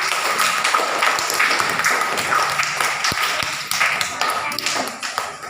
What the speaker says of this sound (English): They are clapping, no?